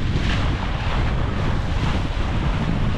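Strong wind of about 20 knots rushes across a sailboat sailing close-hauled at 6 knots, a steady loud roar of wind noise buffeting the microphone, mixed with water rush, with no talking.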